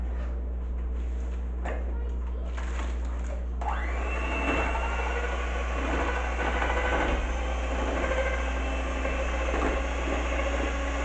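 An electric mixer beats four eggs with a little oil for a breakfast dish. A low hum runs underneath, then the motor whirs up after a few seconds into a steady, close, droning whine that continues to the end.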